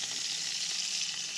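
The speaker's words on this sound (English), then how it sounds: "if it's sizzling, you must turn it" A sausage frying in a pan on a camping stove, giving a steady, close hiss and crackle of sizzling fat that holds evenly at moderate loudness throughout, with no voices.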